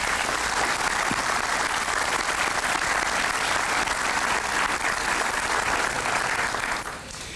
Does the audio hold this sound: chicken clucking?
no